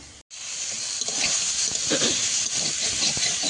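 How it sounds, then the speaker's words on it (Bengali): Water poured into a hot pan of okra and prawns sets off a loud, continuous hiss and sizzle of steam, close up and rising slightly after a brief dropout at the start, with no talk. "যাই হোক সামান্য একটু জল দিয়ে দেবো একদম সামান্য"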